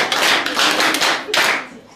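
Students in a school chemistry practical class clap for a classmate, a short loud burst of close hand clapping that swells twice before tailing off.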